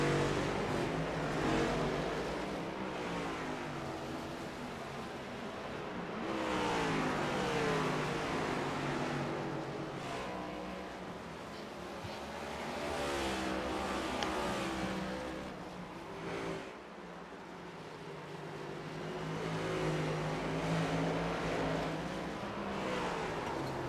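Simulated race cars circling Martinsville Speedway in the iRacing game, a dense steady drone of many engines revving and rising and falling in waves as the pack laps, continuous throughout with no voices.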